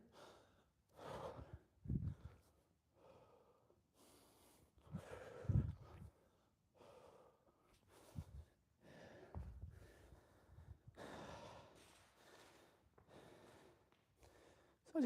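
Heavy breathing after a training set: irregular gasps, snorts and sighing exhales up close, recurring through the stretch with quieter pauses between breaths.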